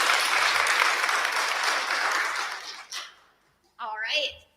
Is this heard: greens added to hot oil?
no